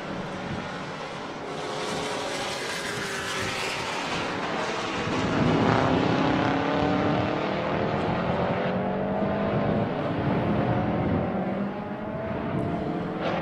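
A bug-eye Subaru WRX Impreza race car laps Circuit of the Americas, its engine droning and rising through gears, swelling louder midway and then fading as it passes, with no talk.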